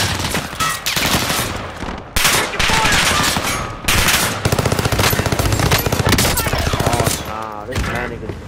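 Dense automatic gunfire in a shooter video game, rapid sustained bursts and loud cracks nearly filling the clip with only brief pauses, with excited player voices mixed underneath.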